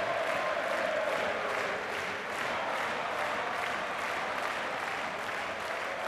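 Roland-Garros tennis crowd at a Djokovic–Nadal semi-final applauding, a dense, continuous wash of clapping from a large stadium audience, steady and even throughout.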